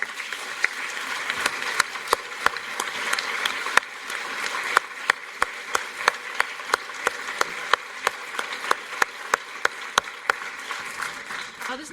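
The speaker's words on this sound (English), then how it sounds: "I wonder if they might just stand up so we can give them a big round of applause." Sustained applause from a lecture audience honoring students who stand, a steady wash of many hands clapping with sharp individual claps popping out, continuing evenly for around twelve seconds without speech.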